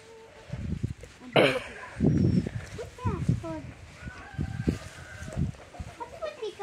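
Hens clucking in a farmyard flock, several short clucks and calls scattered through, near and moderately loud, with people talking over them.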